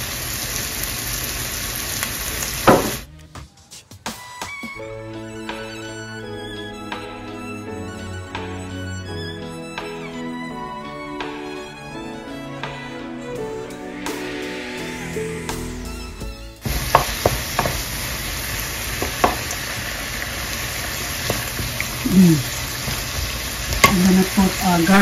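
Salmon fillets with sautéed onions and red bell peppers sizzle steadily in a hot frying pan, with stirring and scraping sounds; a stretch of soft background music plays in the middle while the frying continues.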